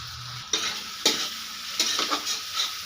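Garlic, ginger, green chilli, turmeric, chilli and cumin powders and salt sautéing in a pan for a katla fish-head curry with potato and eggplant: a close, continuous sizzle broken by several scraping spatula stirs, with no talk.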